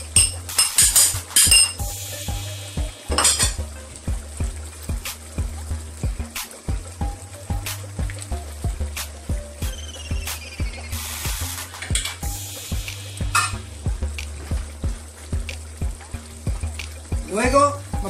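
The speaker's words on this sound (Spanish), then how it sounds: "Vamos a ponerle acá tomatito picado." Chopped tomato stirred into a sizzling pan while cooking chicken cacciatore, with steady frying hiss, repeated sharp clinks of a spoon against the pan throughout, and a voice talking over it.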